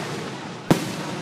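A single sharp firework burst cracks close by at the Hershey, Pennsylvania fireworks spectacular, a loud sudden bang over a steady crowd and ambient roar.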